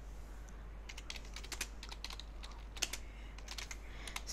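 Rapid, uneven clicking of keys on a computer keyboard, close and steady, with no voices over it.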